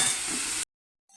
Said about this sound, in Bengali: পেঁয়াজটা একটু ভেজে নেবো লাল লাল করে।